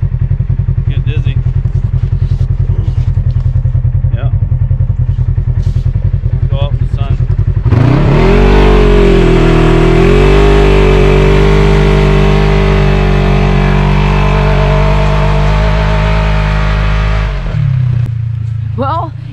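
A 2022 Polaris RZR XP 1000 side-by-side revs hard on frozen lake ice, its engine surging from a low idle into a loud, sustained high roar for about ten seconds before dropping back, with voices talking during the idle.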